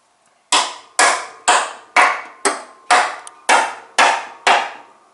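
Ten evenly spaced sharp knocks as a screwdriver jabs into a moldy John Deere 48-inch mower deck, each strike crisp and close with a short woody decay, no voices.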